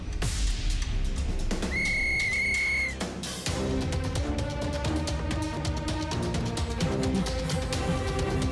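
A sustained whistle blast is blown to start a race, standing out clearly for about a second over loud, busy background music and sound effects.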